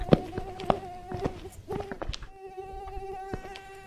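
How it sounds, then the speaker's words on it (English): A mosquito buzz from the video game Smudged whines steadily through the second half, a thin, close, sustained drone with harmonic layers, following scattered game clicks and thumps earlier. "that is way too good of a mosquito sound"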